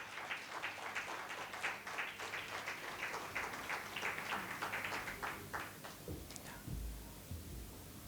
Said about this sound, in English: Please give a big, big, big round of applause